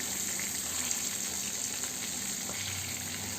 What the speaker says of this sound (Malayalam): ലോ ഫ്ലെയിമിൽ തന്നെ ഇത് ഫ്രൈ ചെയ്തെടുക്കുന്നതാണ് നല്ലത്